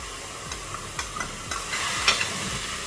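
Chicken marinated in tandoori spices frying with onions in a pan, a soft continuous sizzle broken by several sharp scrapes and clicks of a stirring utensil, close and without talk.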